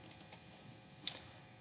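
A few quick, sharp clicks come in a short burst, then a pause and one more click, faint and close against a quiet background.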